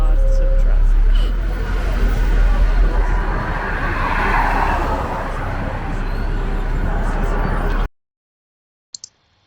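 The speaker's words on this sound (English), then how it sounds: "Lots and lots of traffic." Busy Panama city street traffic, a dense continuous roar of cars and buses with a broad steady wash of engine and road noise and a murmur of voices, cutting off abruptly near the end.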